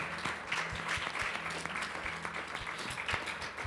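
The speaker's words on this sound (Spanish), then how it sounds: "Y dale un fuerte aplauso al Rey de Reyes." A church congregation applauding, dense steady clapping from many hands, continuous and moderately distant throughout.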